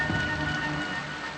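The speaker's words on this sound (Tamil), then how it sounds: "மழை வேற அதிகமாகுது." Heavy rain pours steadily at night on a highway, a dense continuous hiss of drops on the ground with faint distant rumble, no voices.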